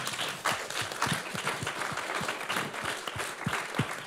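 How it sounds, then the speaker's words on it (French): An audience applauds the people who gave testimonies, with a moderate crowd of individual claps heard distinctly in an uneven, continuous patter. "On peut les applaudir encore"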